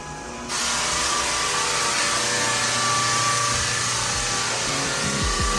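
Floor sander working red oak hardwood floors during a refinishing job, a loud, steady broadband drone that starts abruptly after a brief quieter moment and runs continuously at close range with no talk.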